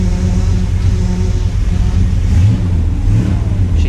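A 1957 Chevy Bel Air V8, freshly rebuilt with its timing off, runs loud and close, its steady engine roar swelling with throttle blips through the clip, no voices over it.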